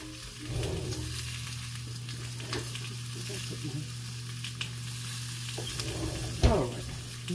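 Pork chops sizzle steadily in a hot pan, a continuous close frying hiss under a low hum, with a few scraping stir sounds and a sharper clatter near the end.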